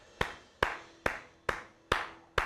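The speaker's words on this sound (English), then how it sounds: "We got an applause here." Slow, evenly spaced single claps sound in a film being watched, about five sharp reverberant hits roughly half a second apart, alone and moderately loud.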